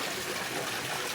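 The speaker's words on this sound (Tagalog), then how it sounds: "Tubig po, gaagas." Water gushes and flows steadily at an outdoor bathing spot, a broad continuous rushing wash with no pauses, moderately quiet and even.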